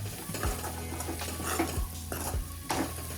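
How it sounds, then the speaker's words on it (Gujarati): Bitter gourd and onion sabji with red chili powder sizzles in a pan while a spoon stirs and scrapes it, with a steady frying hiss and several distinct knocks against the metal. "હવે આપણે શાકને થોડી વાર માટે સાંતળવા દઈશું"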